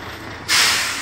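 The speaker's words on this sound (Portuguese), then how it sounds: "Descarregando uma areia fina, ó." Dump truck tipping a load of fine sand, opening with a low rumble before a sudden loud rushing hiss that bursts in and slowly eases off.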